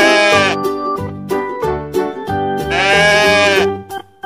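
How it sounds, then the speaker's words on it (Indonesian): A multicoloured mother goat being loaded onto a trailer truck bleats loudly and repeatedly in long, wavering cries with short breaks between them, close up and with no talk. "Ini ada induk kambing warna-warni"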